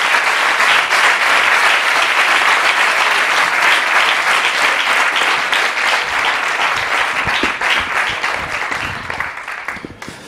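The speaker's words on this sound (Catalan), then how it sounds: "Un aplaudiment pels dos" A large audience at a CUP campaign rally in El Vendrell applauds loudly, a dense sustained roar of many clapping hands that eases slightly toward the end.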